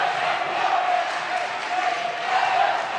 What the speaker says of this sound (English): And here comes the Sparkman Senator crowd.